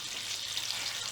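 Schnitzel sizzles steadily in a pan of mixed oil and butter, a dense, even frying hiss held at a constant level throughout with no voices.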